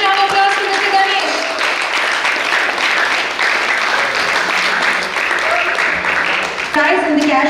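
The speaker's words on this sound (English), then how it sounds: "Let's hear a huge round of applause for Mr. Ganesh." An audience at the Shivjayanti live canvas painting competition prize ceremony applauds the third-place winner. Sustained clapping is mixed with voices and music-like tones throughout.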